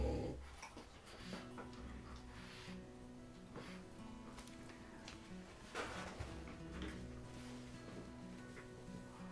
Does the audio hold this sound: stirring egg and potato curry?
no